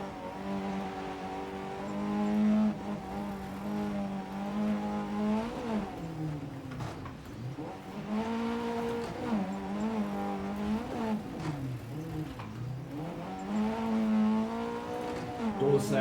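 Hillman Avenger rally car engine in a racing video game on a snowy stage, a steady droning note that rises and falls with throttle changes throughout, loud and continuous with no talk.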